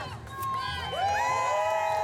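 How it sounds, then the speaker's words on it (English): Crowd cheering and whooping at an outdoor ribbon cutting opening a new downtown gathering space in Houston, with children's shouts and high excited voices swelling over about two seconds. "Cut of the ribbon, a cheer from the crowd"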